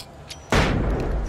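A single loud gunshot in the video game Alan Wake cracks out suddenly after a quiet lead-in, followed by a long booming tail that fills the rest of the moment.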